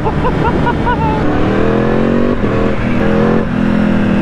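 Yamaha R1 motorcycle engine, loud and close, rising through fast revving pulls with brief dips between gear changes and a wind-roar backdrop from riding at speed.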